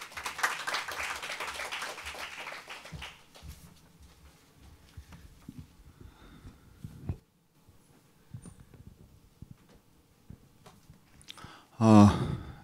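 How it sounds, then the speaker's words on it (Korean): An audience at a climate policy forum in Jeju applauds as a council committee chairman walks to the podium. A burst of clapping fills the first few seconds and then fades into quiet shuffling, ending with a loud thump near the microphone. "박수로 단상을 모시겠습니다"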